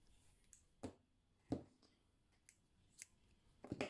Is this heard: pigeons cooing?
no